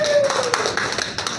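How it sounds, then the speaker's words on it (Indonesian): Brief burst of audience clapping at a Batak community forum gathering, a short patter of hands with a few sharper claps, faint voices mixed underneath. "Kita beri tepuk tangan yang paling mulia buat Tuhan."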